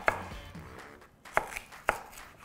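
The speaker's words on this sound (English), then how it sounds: "I'm going to cut my onion into half-inch sized rings" A knife slices an onion into half-inch rings on a board, giving three crisp, separate chops spaced about half a second apart, close and clear, with a faint low rumble before them.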